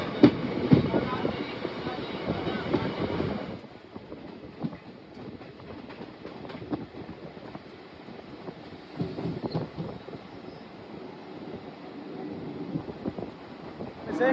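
Malda–Nabadwip Dham Express (13422) running, a steady rumble of the rail carriage with faint rhythmic clatter and wind buffeting, louder in the first few seconds then settling into a continuous moderate drone.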